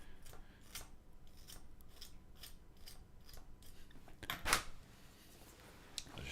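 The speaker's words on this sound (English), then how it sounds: "sharpening my pencil" A pencil turns in a small sharpener in a quiet workshop, giving a series of rhythmic scraping, rasping strokes. The strokes are close and fairly faint, and a louder grinding burst comes near the end.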